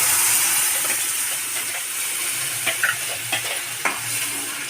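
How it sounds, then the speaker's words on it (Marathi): Matar paneer gravy cooks in butter in a pan, hissing and sizzling steadily while a utensil stirs it with a few brief scraping knocks. "ग्रेव्ही चांगली मिक्स करायची."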